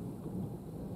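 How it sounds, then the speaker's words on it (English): Thunder rumbles low and steady at a distance, a dull continuous roll with faint rain-like hiss over it and no voices. "I hope you can hear that thunder."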